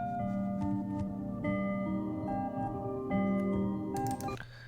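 Two layered trap-style melodies, a bell line with an arpeggio, processed with a reversed stutter effect and reverb; steady tonal loop with bright stutter bursts near the end, no voice.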